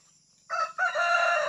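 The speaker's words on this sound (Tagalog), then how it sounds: "Ang dami palang manok ng alaga ni nanay dito." A rooster crows once, loud and close, a short two-part call rising then held, with quiet background before it.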